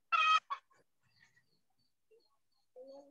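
A nearby chicken gives a sharp, loud cluck, followed by a softer second call, then fainter scattered noises and a low murmur near the end, heard in an otherwise quiet indoor sermon setting.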